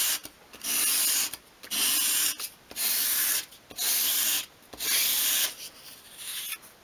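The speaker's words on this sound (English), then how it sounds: "against a piece of sandpaper at a 45-degree angle and just sweep it towards you, keeping it at that same angle" A small wooden piece for a 1/12th scale storage unit is swept by hand across sandpaper at a 45-degree angle, five rhythmic rasping strokes with brief pauses between, close and fairly loud.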